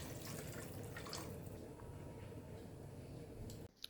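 Water pours steadily into a pot of soaked rice while chicken pulav is being made, a continuous splashing, gurgling stream that cuts off abruptly near the end.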